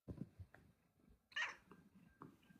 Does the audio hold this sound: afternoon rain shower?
no